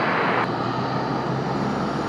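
A fixed-wing airplane takes off from runway 30 at an airport, its steady engine roar filling the air at close to moderate distance for about two seconds.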